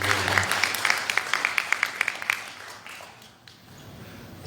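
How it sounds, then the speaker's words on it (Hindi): Applause from a seated audience at a seminar in Bengal, a steady clatter of many hands with some sharper individual claps, fading out after about three seconds. "धनानिया जी के लिए जरा ताली बजा"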